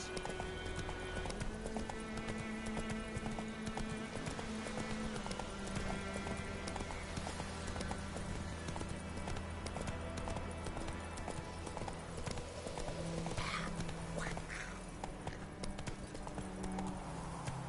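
Roach the horse gallops in The Witcher 3, a steady drumming of hooves over game music that runs throughout.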